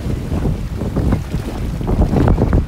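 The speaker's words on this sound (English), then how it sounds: "Some good waves starting to come in now." Ocean waves rolling in toward the shore, carried on steady wind that buffets the microphone, a continuous loud rumbling wash with surges as each wave breaks.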